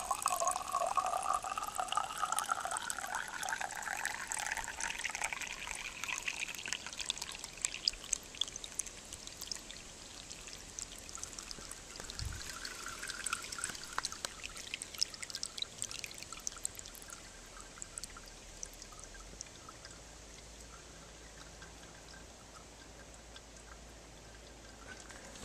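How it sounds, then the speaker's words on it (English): Water pours steadily into a jug until it fills and spills over, a continuous running, splashing stream that rises in pitch as the jug fills, then settles into a softer trickle, with no voices. "This jug is going to overflow."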